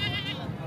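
A goat bleats at a livestock market where goats of good breeds are sold: one short, wavering, nasal cry sounds close by, with crowd noise behind it.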